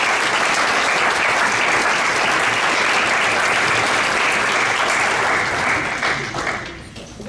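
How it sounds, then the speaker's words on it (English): Loud, close audience applause at a Kingdom Investors faith and business gathering, thick continuous clapping that holds steady and then fades away over the last second. "Give them a round of applause."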